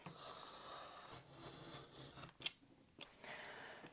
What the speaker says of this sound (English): And I'm cutting it out.